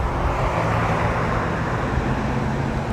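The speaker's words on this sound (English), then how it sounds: "Then we're gonna have to wait for traffic to clear again." Steady road traffic rumbles past a cyclist on the street in Longmont, a continuous loud wash of engine and tire noise with no talk.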